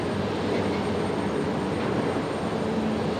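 Qantas Link Dash 8 turboprop departing from runway 01 at Brisbane Airport: a continuous, loud, broadband engine roar at a steady level throughout, with no voices.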